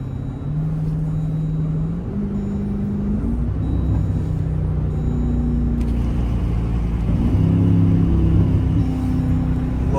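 SRT Jeep engine on a night drive: a steady, close, droning exhaust note that climbs in pitch as the vehicle accelerates through a few shifts, with no distinct pops standing out.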